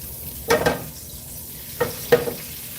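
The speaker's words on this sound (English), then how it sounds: "now we got that sizzling" Fried rice sizzles steadily in a frying pan while a utensil scrapes and stirs in a few short bursts.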